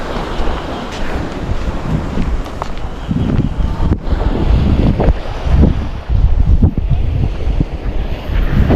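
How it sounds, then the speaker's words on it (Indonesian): Strong wind at a seashore in Aceh Besar buffets the microphone in a constant, loud roar, with the rumble of surf underneath and no voices. "Ini cuaca kurang bagus, masih berangin"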